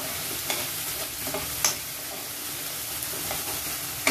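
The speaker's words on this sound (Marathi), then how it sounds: "परतून झाल्यानंतर टोमॅटो प्युरी घालून घ्यायची." Tomato puree being stirred into a frying crab masala, with a steady sizzle and a few distinct spoon scrapes against the pan throughout, close and moderately loud.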